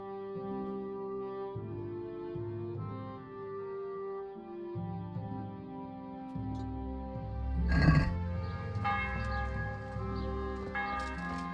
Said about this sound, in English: Wonder why they're ringing the bell right now.